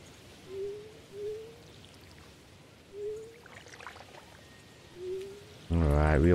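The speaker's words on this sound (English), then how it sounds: "We are watering the plants." Watering plants in the Stardew Valley video game: a few short, soft, evenly spaced splashy pours over quiet game ambience, followed by a louder burst of tonal game sound at the end.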